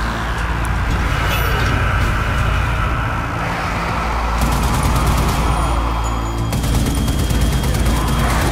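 Machine gun in the video game Zombie Army Trilogy firing in long sustained bursts, a loud, dense rattle of rapid shots over rumbling background noise, continuing almost without pause.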